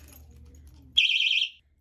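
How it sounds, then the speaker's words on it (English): A personal safety alarm keychain from a haul of accessories lets out a loud, steady high-pitched electronic shriek lasting about half a second, cutting in abruptly after low background rumble and stopping sharply. "Here's the alarm. I will show y'all how this works."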